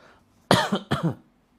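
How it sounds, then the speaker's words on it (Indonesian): Two harsh coughs in quick succession, close and fairly loud, followed by silence. "Batuk-batukan."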